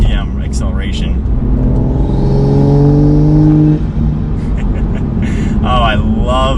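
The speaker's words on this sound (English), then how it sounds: "We'll do a slow, low RPM acceleration." A straight-piped Toyota A90 Supra pulls through a slow, low-RPM turbo acceleration, a rising droning engine growl swelling in the middle and fading out, with someone talking before and after.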